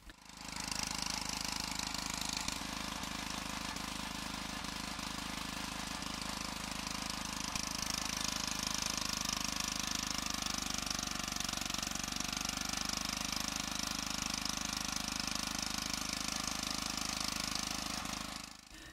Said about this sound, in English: The diesel engine provides the hydraulic power needed to compress the soil into an ISSB.